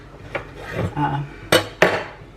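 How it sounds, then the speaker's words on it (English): A knife slices a lime in half on a cutting board, a few soft handling knocks followed by two sharp, close chops of the blade striking the board in quick succession. "I'm going to cut this lime in half"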